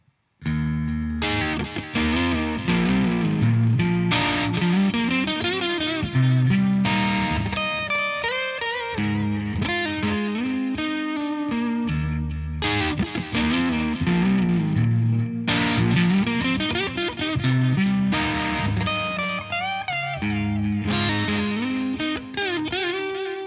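A Harley Benton ST-20 electric guitar plays through a 212 cab loaded with Vintage 30 speakers, with strummed and picked driven phrases, loud and continuous, alone without talk.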